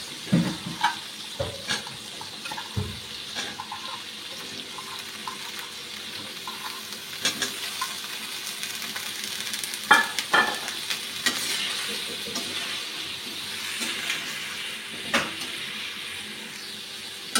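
Cauliflower fries in a pan with steady sizzling and hiss, stirred over and over. Frequent scraping clicks and clatters of the spoon come through clearly, with no voices.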